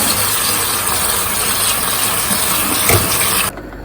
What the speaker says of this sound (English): give it a wash under running water